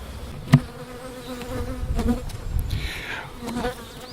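Honey bees swarm and buzz around an opened hive in a spring apiary, a dense, steady drone close by, broken by a sharp knock near the start and a few handling bumps.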